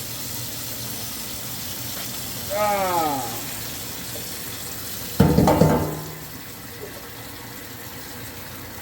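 Hot water pours into Tang drink mix in a short rising gurgle as the vessel fills. A louder splashing gush follows, and a man briefly exclaims.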